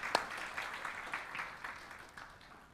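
A church congregation claps together in praise, soft rhythmic applause heard at some distance with a sharper clap at the start, fading gradually, no voices over it.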